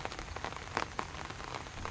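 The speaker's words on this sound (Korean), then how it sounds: "어느새 봄비가 내리는 5월" Spring rain falls steadily in May near an ibis nest in a wetland, a soft continuous hiss scattered with the close patter of individual drops.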